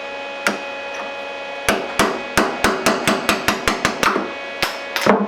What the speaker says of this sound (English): since I don't want to damage this front edge with the hammer, I'm going to switch to a punch.